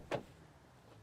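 The rear door of a 2024 Mazda MX-30 e-Skyactiv R-EV electric car shuts with a single soft, close thud near the start, followed by quiet cabin stillness.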